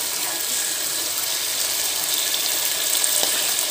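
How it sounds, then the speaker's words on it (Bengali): Chicken sizzling in hot oil as it is cooked down for Bengali chicken kosha, a steady bright frying hiss throughout with a few faint clinks. "যতক্ষণ না চিকেনটা থেকে তেল ছাড়ছে ততক্ষণ কষাতে হবে।"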